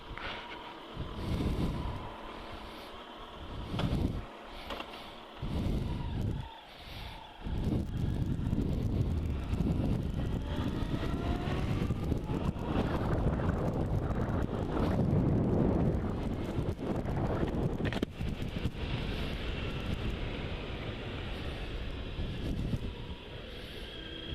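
Riding a Kawasaki GTR 1400 Concours motorcycle, with loud continuous wind buffeting the microphone over a low engine rumble; a few gusty bursts at the start give way to a sustained roar.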